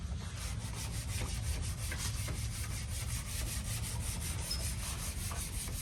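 Hand block sanding along the edges, corners and crannies of a car body panel on a classic Bel Air, Barracuda or Impala restoration, a steady close-up scraping rub with a brisk back-and-forth rhythm and no voices.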